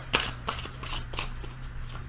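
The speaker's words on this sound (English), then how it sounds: "Shadowscapes Tarot. I'm going to shuffle these for just a second." Shadowscapes Tarot cards are shuffled briefly, giving a few soft, crisp riffling flicks and taps close by over a quiet background hum.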